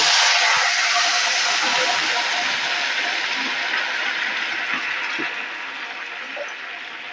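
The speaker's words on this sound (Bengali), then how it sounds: "এখন আমি যে জলটা ফুটিয়ে রেখেছিলাম মশলা দিয়ে, সেই জলটা এর মধ্যে দিয়ে দেব" Spiced boiled water poured through a strainer into a pot of Bengali pulao: a steady, close rushing pour with a hissing wash that runs evenly for about seven seconds.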